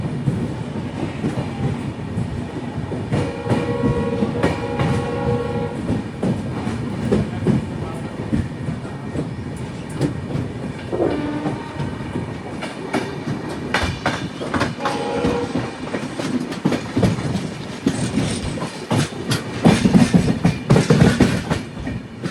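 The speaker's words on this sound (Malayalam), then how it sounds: "6:54 ട്രെയിൻ ഇപ്പോൾ കിഷൻഗഞ്ചിൽ നിന്ന് എടുത്തേ" From inside a 3AC coach, the Darjeeling Mail runs on from Kishanganj in fog. Its wheels keep up a loud, continuous rhythmic clickety-clack over the rails, with metallic rattles and brief squeals, and no voices.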